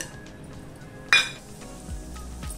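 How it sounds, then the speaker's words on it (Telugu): Spoonful of tempering spices hitting hot oil in a pan for gongura (sorrel leaves) chutney, a sudden sharp sizzle burst that quickly fades into a lower crackle, followed by a few light clinks of utensils. "ఆయిల్ కాగిన తర్వాత ఇందులోకి 1 టేబుల్ స్పూన్ మైన పోపు దినుసులు"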